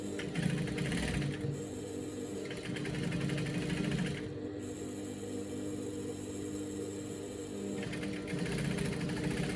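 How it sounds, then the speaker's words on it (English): A sewing machine stitching a dress runs in steady bursts, whirring loudly for a few seconds, pausing briefly, then starting again close by. "I'm just going to be matching it like so and be sewing nicely"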